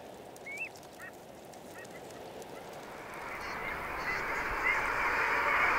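Faint, scattered calls of long-tailed ducks over a rising wash of wind or water noise, a few short honking notes standing out early before the background swells.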